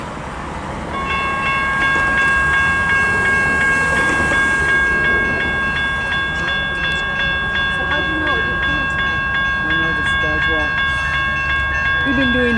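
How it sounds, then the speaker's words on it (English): A train passes close by in Michigan, its loud horn blaring a sustained multi-tone chord over the heavy rumble of rolling cars, with people talking underneath. "I've never seen that close to a train. Here it comes, Gabe."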